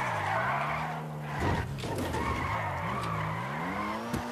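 A car in a video game skids while braking, tires squealing in a long wavering screech over a steady engine drone, loud and close.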